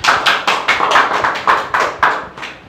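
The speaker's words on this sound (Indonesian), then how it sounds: "berikan aplaus kepada kelompok 1" Several people clap for a student group in a tenth-grade classroom, a short burst of sharp, uneven claps at close range that fades after under three seconds.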